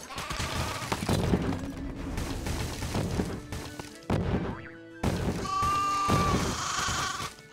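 A sheep bleats amid busy video game sound effects, with thuds, crashes and rapid clattering bursts mixed with tonal game noises and brief drops to near silence.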